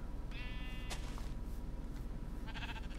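Sheep bleating in the video game Minecraft, two short wavering bleats with a gap between them, clear over a low steady background hum.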